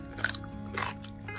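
Two crisp, short crunches of teeth biting into a fresh, prickly garden cucumber, close to the ear, with a faint steady hum behind them.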